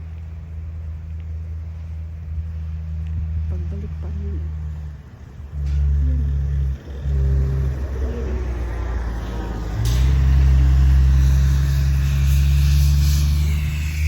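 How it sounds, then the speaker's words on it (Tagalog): A city bus rumbles past during a snowstorm in Calgary, a loud, low engine drone that swells and fades, with someone speaking briefly over the traffic noise. "Ayan ang bus oh."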